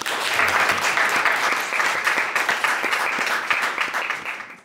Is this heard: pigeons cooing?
no